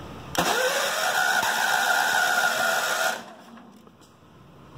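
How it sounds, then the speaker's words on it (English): An older John Deere engine with the choke fully on cranks over on its starter button, making one loud, steady, whirring burst of about three seconds that then cuts off, followed by faint clicks. "I'm going to put it all the way down on a choke, turn the key, and hit the old starter button."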